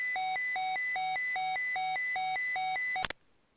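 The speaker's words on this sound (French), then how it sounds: "J'ai coupé l'alarme avec ce bouton." Caution and Warning alarm in the Orbiter NASSP Apollo spacecraft simulator game: a loud repeating two-tone electronic beeping pattern, about eight even cycles, cut off abruptly near the end.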